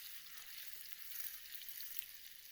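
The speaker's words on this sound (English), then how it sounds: "Be careful in this step because the caramel will bubble rapidly when the butter is added." Hot sugar caramel bubbles and sizzles on the stove as butter is stirred in, a soft, steady crackling fizz heard fairly faintly with no talking.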